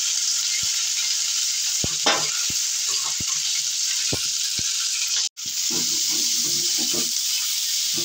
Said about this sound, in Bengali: তার মধ্যে দেব পেঁয়াজ কুচি, দেব গাজর আর বিনস